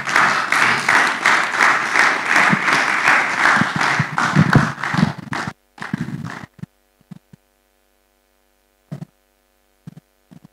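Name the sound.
audience applause at a mental health workshop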